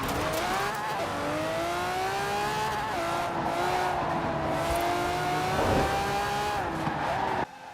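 A race car in Forza Horizon 4, its stock engine fully upgraded, accelerates hard with a loud, continuous whining engine note that climbs and dips through gear changes, tire noise underneath, close and steady for several seconds.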